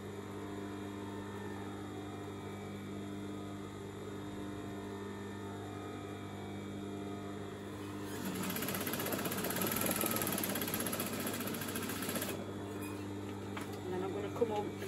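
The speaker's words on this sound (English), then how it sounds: "I'm going to stitch to the end again, making sure that fabric is running together." A sewing machine stitches fabric for hair ties, its steady mechanical whir rising loud for a few seconds in the middle over a constant low hum, then stopping.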